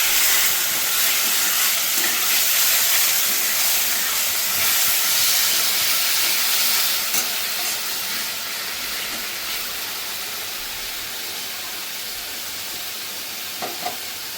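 Chopped capsicum fries in a pan during preparation of a homemade paneer dish, producing a steady, loud, close sizzle and hiss that eases slightly toward the end, with no voices.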